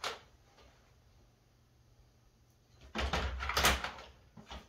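The front door latch of a Diggs Revol large dog crate is worked by hand: a soft click at the start, then a louder metallic rattle and clack of the latch close by, ending with a small tap.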